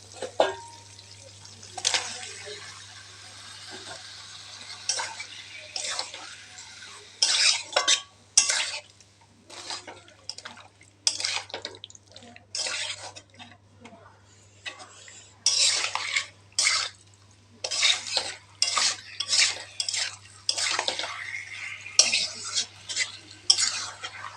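A spoon scrapes and clinks against a pan while stirring fish in fried spice paste, irregular close taps and scrapes over a low steady hum, with a soft sizzle between strokes.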